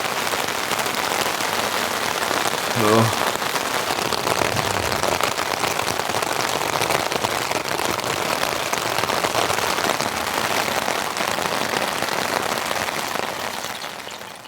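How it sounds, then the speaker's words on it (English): Heavy rain pounding steadily on a tent, a dense continuous patter close by, with a brief short exclamation from a voice early on. "The rain just got way heavier."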